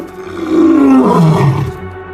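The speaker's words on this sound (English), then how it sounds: "It is the roar of the lion." A deep, loud lion roar rolls out at close range, swelling and then sliding lower in pitch over about two seconds, with nothing else heard.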